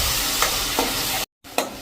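Tomato puree hits hot oil and tempered spices in a pan for a Gujarati varadiyu shaak, sizzling loudly and close, with a few stirring strokes. The sound stops briefly before resuming.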